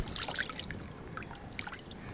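Fish being washed by hand in a container of water, giving soft splashes and trickling drips in short, uneven bursts, close and fairly quiet.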